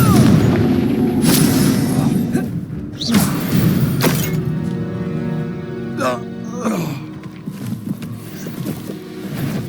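A Confringo fire spell explodes in a Harry Potter video game, heard as loud booming blasts with crackling debris over several seconds, close and layered with game effects and a voice.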